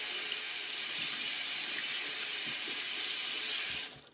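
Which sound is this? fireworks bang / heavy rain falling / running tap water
running tap water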